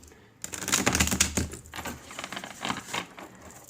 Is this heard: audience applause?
no